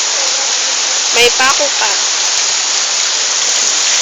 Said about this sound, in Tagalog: Ito nga po ang ulan. Ito ang ulan.